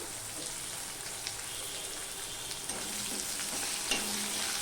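Chopped onions sizzle steadily in hot oil after salt is added, a continuous bright frying hiss with occasional soft stirring clicks, close and alone.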